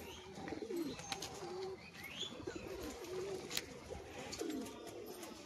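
Pigeons cooing in a loft, soft repeated low throaty coos from several birds with faint chirps mixed in, close but quiet against a steady background hiss.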